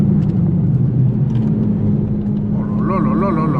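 A Subaru Forester STI's engine pulls hard and steady in fourth gear, a loud low drone with a rising whine building near the end, heard from inside the cabin.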